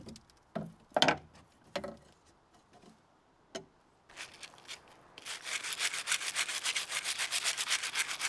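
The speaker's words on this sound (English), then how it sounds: "I used a wire brush to scrub away most of the paint from the metal pieces" Wire brush scrubbing old paint off metal parts from a 1950s pantry cupboard: a few separate scrapes and knocks at first, then a steady run of fast, rhythmic, loud raspy strokes toward the end.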